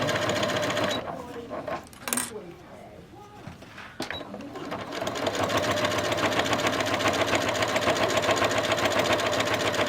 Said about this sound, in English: So I'm sewing through that a couple times.